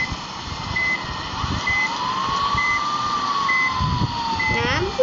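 An ambulance siren in a bus simulator game wails in one slow rising and falling sweep over a steady engine hum, with regular short beeps and a voice in the background.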